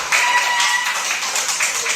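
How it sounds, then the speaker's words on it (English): Children in a kindergarten classroom clap together for a classmate, a dense, even patter of small hands lasting a couple of seconds. "Clap for Deepak"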